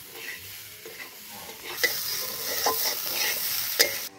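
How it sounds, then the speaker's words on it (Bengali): Salt, turmeric and chilli powder being stirred into bhog khichuri in a hot pot, with a gentle sizzle and rhythmic spoon scrapes that grow louder partway through, close and continuous, ending in a sharp metallic knock. "লবণ দিয়ে দিব, হলুদ দিয়ে দিব, সামান্য একটু লঙ্কার গুঁড়ো দিয়ে দিব। ভালো করে মিশিয়ে নেব।"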